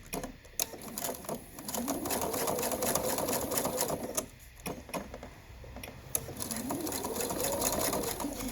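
A sewing machine stitches elastic onto a cloth mask in quick, rapid bursts of clicking needle strokes, pausing briefly between runs of close, steady stitching.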